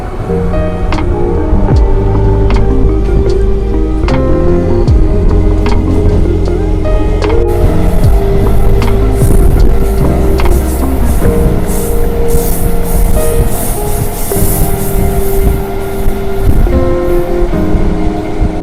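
MEMU passenger train running at speed from Chittoor to Tirupati after leaving Pakala Junction, a loud continuous rushing roar with wind buffeting and humming rail tones, heard up close and steady, with no voices.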